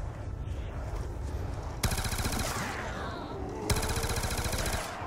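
Rapid automatic gunfire from a weapon in Call of Duty Black Ops 2 Zombies on Nuketown, two sustained bursts of fast rhythmic shots over game background noise.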